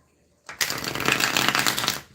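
A quick riffle of tarot cards being shuffled, starting after a short silence and running as one continuous close, crisp flutter.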